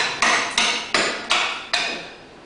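A slate hammer strikes and cuts a slate over a slater's stake, five sharp, bright impacts at an even pace, each ringing briefly before decaying, close and clear with no voices.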